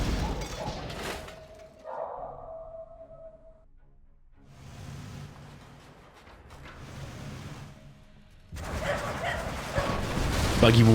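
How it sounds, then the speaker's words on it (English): Dogs bark in a small market in the strategy game Command & Conquer Generals, a few yips and woofs heard between stretches of quieter battle ambience, with loud explosions and gunfire returning at the end. "Here's some dogs barking in that little market as well."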